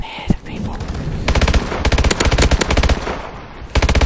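Rapid automatic gunfire from a Call of Duty Advanced Warfare gun game match: several close, loud bursts of fast shots with short pauses between them.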